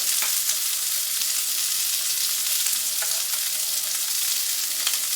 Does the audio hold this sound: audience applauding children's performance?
no